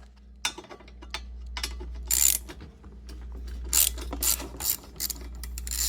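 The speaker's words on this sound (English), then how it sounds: "gotta take out that 10mm bolt right here" A ratchet clicks in quick bursts while loosening a 10mm bolt on a Honda Accord headlight assembly, close up, with short pauses and handling noises between runs and no talking.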